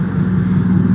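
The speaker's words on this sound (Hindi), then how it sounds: "आपको ये आवाज़ आ रही है, ये हेलीकॉप्टर की आवाज़ है।" A helicopter overhead in Rajouri gives a loud, steady engine-and-rotor drone, close and unbroken, with no voices over it.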